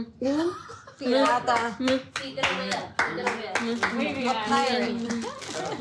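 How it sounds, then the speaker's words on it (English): An audience bursts into loud, enthusiastic clapping and cheering, with laughter and excited voices overlapping in a lively wave of applause. "I love this moment because the crowd just goes wild"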